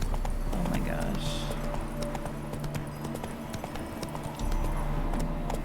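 Horse hooves clip-clop at a steady galloping rhythm in The Witcher 3 video game, close and continuous, while a person talks over them.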